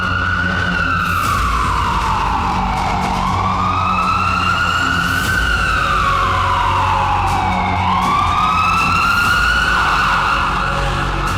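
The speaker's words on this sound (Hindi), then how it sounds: "ये सड़कें एम्बुलेंस के शोर की आदी हैं।" An ambulance siren wails loud and steady on a city street, its tone sweeping slowly up and down in long repeating cycles with traffic rumbling underneath.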